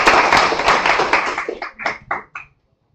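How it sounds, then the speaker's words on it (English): An audience of around seventy to eighty people at an AI appreciation event claps, a dense burst of applause that quickly thins into a few separate claps and stops. "a big round of applause for all 70-80 people who have gathered today for this event"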